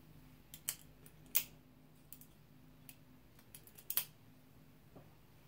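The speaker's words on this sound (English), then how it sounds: "Snappy action on that bolt action." WE Knife TP-03A bolt-action pen cycled repeatedly, a handful of crisp, faint metallic clicks and snaps in quick irregular succession, close up against quiet room hum.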